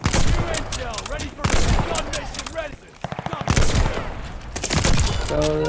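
Rapid player gunfire in a first-person shooter game, loud close bursts of automatic shots and cracks stacking densely with hardly a pause, ending with a short ringing electronic tone.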